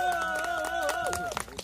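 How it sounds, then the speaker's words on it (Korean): An audience at an outdoor busking show at a farm in Suncheon claps in quick, light bursts while a voice speaks over the top and a sustained tone holds underneath. "자, 큰 박수 부탁드릴게요."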